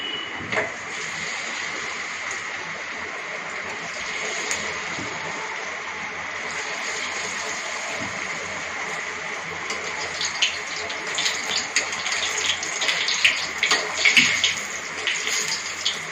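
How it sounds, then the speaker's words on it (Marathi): Sabudana vadas fry in hot oil in a home kitchen, a steady close sizzle with crackling pops that grow busier toward the end. "तेल गरम झालेलं आहे वडे बनत आहेत"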